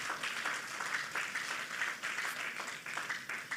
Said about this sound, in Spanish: Dale ese aplauso fuerte al Señor.